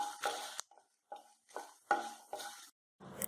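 Fennel seeds, cumin and dried chillies dry-roasting in a pan give soft, intermittent scraping and rattling strokes as they are stirred, close and quiet with brief gaps between strokes.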